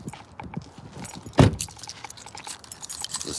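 A set of keys jangles close by, with a sharp burst of metallic clinking in the middle and lighter rattles around it, heard without speech in a residential complex backyard.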